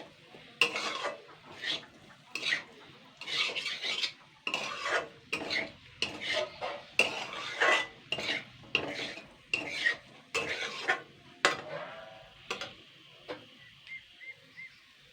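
Spiced potatoes being scraped and lifted out of an iron kadai, with a quick series of clinking metal scoops and stirring scrapes in bursts, fairly close, then a short pause before a final few scrapes.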